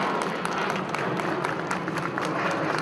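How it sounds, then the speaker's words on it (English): An audience at an Indian entertainment event applauds, with dense, continuous clapping from many hands filling the space at an even, lively level. "clap louder"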